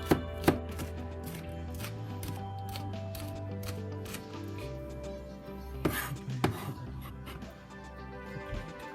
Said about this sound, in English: So we get 2 scallions. We cut like this. We just chop it.